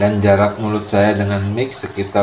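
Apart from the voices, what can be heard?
None of the usual background noises is heard.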